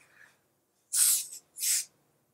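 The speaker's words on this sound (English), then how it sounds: "I'm going to use the highlighter mist on my collarbones" Two quick hissing sprays from a highlighter mist bottle onto skin, close and fairly loud, separated by a short pause.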